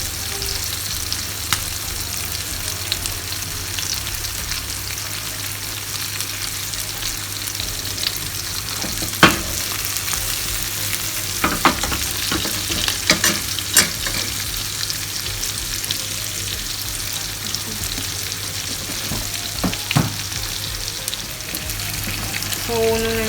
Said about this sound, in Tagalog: you have to baste it continuously para ma-absorb yung lasa ng butter